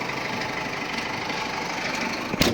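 A cold Massey Ferguson 5S tractor engine idles close by with a steady low rumbling chug, running evenly throughout, followed by a brief clunk near the end.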